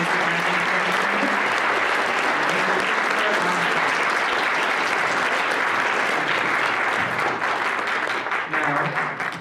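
A high school assembly audience gives loud, sustained applause for Hall of Fame inductees, with dense clapping holding steady for several seconds before thinning slightly at the end.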